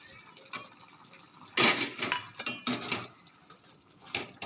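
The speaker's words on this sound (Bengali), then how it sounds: "এবার একটু নাড়িয়ে দিচ্ছি" A spoon stirring papaya chutney with cashews and raisins in a pot, scraping and clinking against the metal in several close bursts over a quiet background.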